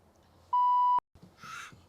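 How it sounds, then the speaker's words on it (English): A single loud, pure censor beep lasts about half a second, cutting over a spoken word on a talk show. Quieter conversation sits before and after it. "We're just going to beep him every time he says it so we don't have to hear it over and over."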